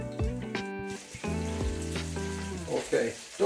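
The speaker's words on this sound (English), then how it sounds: "it's giving me the right sizzle, and in she goes" A breaded chicken breast burger sizzles in a deep fryer, a close, crackling hiss of hot oil that rises and bubbles in short bursts.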